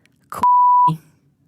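A single steady censor beep, about half a second long, cuts off speech, with brief bits of talking just before and after.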